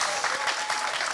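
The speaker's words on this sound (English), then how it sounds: "I think she deserves a round of applause" Audience applause at a climate justice and human rights panel at COP26, a brief burst of dense clapping from a crowd, moderately loud and without talk.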